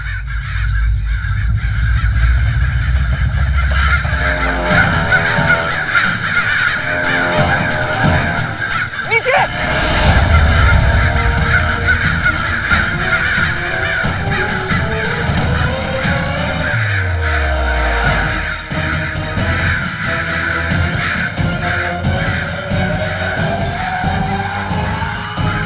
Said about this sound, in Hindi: अचानक से हमारे आसपास इतने सारे कौवे कैसे आ गए?